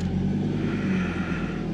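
A vehicle engine rumbles steadily while driving off in low range along a cut line in Tembe Elephant Park, a close, continuous low drone without talk.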